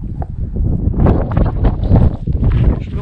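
Strong wind by the sea, buffeting a microphone in loud irregular gusts that roar and rumble, rising sharply after a quieter start.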